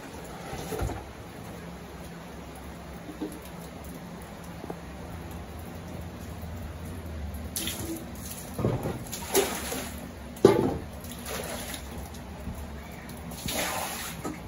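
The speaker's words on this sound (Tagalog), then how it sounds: "Tubig." Water runs steadily during cleaning work at a farm, a continuous wash of noise at moderate level with a few louder splashes and knocks toward the middle and end.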